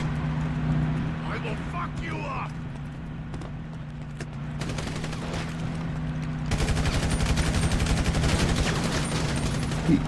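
Gunfire in an online shooter game, including bot enemies firing: a steady barrage that grows into dense, rapid bursts in the second half, with players talking over the shooting.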